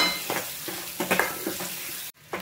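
Onion and coconut paste sizzles and fries in hot oil for a Saoji mutton curry, with a spoon stirring in short scraping strokes through a steady crackle, no talking.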